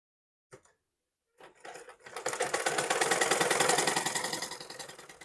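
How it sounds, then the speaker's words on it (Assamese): A sewing machine stitching a blouse starts with a short click, then whirs up into a fast, rhythmic mechanical clatter that holds steady and close for several seconds. "আৰু এটা মই চিলাই মাৰি দিম।"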